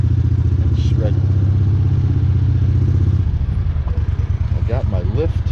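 A Vermeer wood chipper engine runs loud and close with a steady mid-pitched drone, shifting to a lower, rougher note partway through, while a person talks over it.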